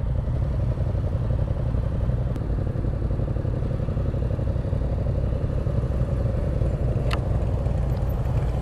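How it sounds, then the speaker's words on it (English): Harley motorcycles rumbling somewhere behind on the road, a steady low engine drone mixed with broadband road and wind noise throughout. "Oh, those Harley guys are behind me."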